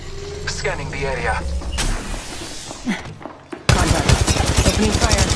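Gunfire in the mobile shooter Apex Legends Mobile: muffled game action and a brief voice give way to a sudden loud stretch of rapid automatic fire with dense cracking shots near the end.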